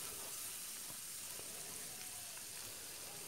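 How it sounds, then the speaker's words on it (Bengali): Onion paste sizzling and frying in hot oil in a pan for Pabda fish curry, a steady, fairly quiet crackle of broad hiss with no talking over it. "এখন আমি এতে পেঁয়াজ বাটাটা দিয়ে দিলাম। পেঁয়াজ বাটাটাকেও একটু ভালো করে ভেজে নেব।"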